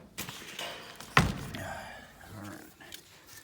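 Wooden chicken coop door swung shut with one sharp close thud, followed by faint rattling and creaks, with a voice speaking nearby.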